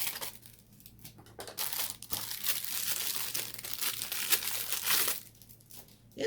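A mail package is cut open up close, with bursts of crinkling and tearing packaging material, loud scratchy rustles coming in uneven waves with short pauses between them.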